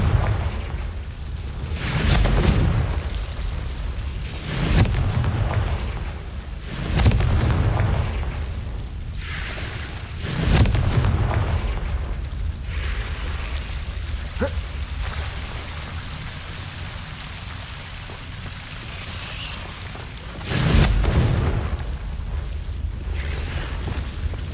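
Repeated explosive blasts from the Confringo fire spell in Hogwarts Legacy, about six booming bursts at uneven intervals over a continuous rumbling game ambience.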